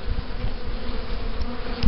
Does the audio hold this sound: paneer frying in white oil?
no